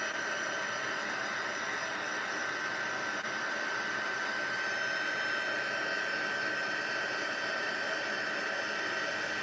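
Heat gun blowing hot air onto a stamped card for embossing, a steady, even whoosh with a faint whine that runs unbroken and close throughout, with no talking.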